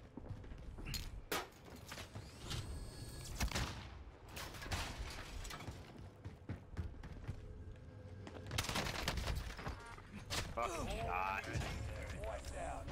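Gunfire from a ten-round magazine gun in a video game, with repeated sharp shots and mechanical clatter in bursts, heard under excited talk from players.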